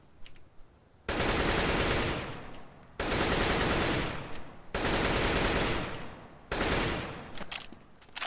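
Rifle spray fire in the Counter-Strike video game comes in four loud, dense bursts of rapid automatic shots, each lasting about a second or two, separated by short pauses.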